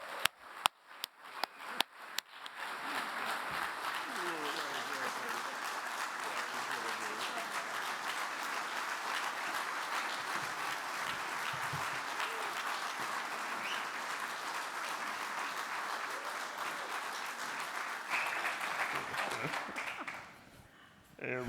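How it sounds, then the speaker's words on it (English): An audience gives a rousing welcome to Avis and Eugene Robinson at the Columbus Museum of Art: a few loud claps open into steady, dense applause that holds for most of the span, then drops away near the end. "Let's give them a rousing applause."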